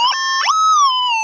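A metal detector gives a loud, strong tonal signal over a deep gold target, a close electronic whine that warbles and shifts pitch in short bursts before holding a steady tone.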